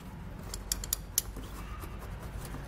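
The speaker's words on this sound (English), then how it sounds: "Now this last one should do the trick. Get it nice" Cams on pewag wide base tire chains for a 2019 Toyota are tightened, giving a few faint metallic clicks and a brief ratcheting creak over a low, steady outdoor rumble.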